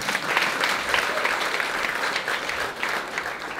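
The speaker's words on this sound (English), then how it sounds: "she deserves a clap" An audience at a scholarship recipients' breakfast claps for a woman, producing a dense, even wash of applause that holds steady throughout at moderate loudness.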